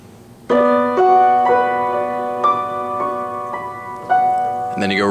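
Piano played with both hands together on a rock song, sustained chords and a bass line ringing through a steady, moderately slow passage with several fresh chord strikes, close and clear with no talking.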